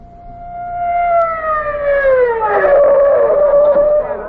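A loud police car siren wails, rising and falling in pitch, close by and continuous, with no talking over it.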